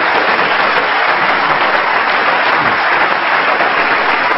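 Steady, dense applause from a live comedy show audience, loud and unbroken with no voices over it, like a crowd clapping hard after a joke.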